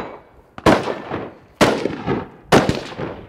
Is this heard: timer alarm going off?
no